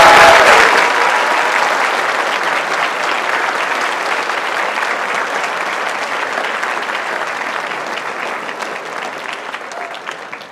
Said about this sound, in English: Let's give a rousing applause to Emma Haley.